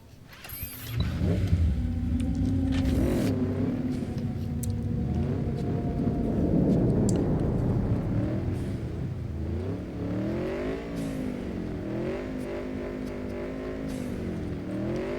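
Motorcycle engine in a video game revving up and rising and falling in pitch repeatedly, loud and close with mechanical rumble throughout, no talk.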